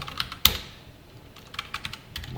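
Typing on a computer keyboard while writing a post for a text board program, with one sharp loud clack near the start followed by scattered light keystrokes, close and alone with no talk.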